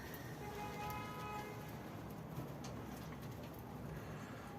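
A dolapçı pigeon coos softly beside steady outdoor background noise, with a few faint calls over about five seconds.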